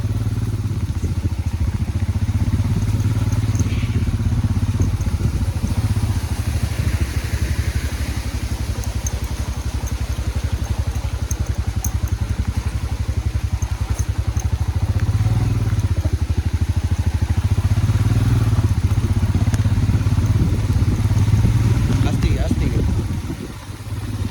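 A Royal Enfield Himalayan 411 motorcycle rides off-road with a steady, throbbing engine drone and some clatter, while voices are heard talking over it throughout.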